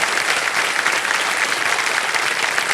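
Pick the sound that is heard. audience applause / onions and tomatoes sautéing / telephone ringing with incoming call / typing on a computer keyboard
audience applause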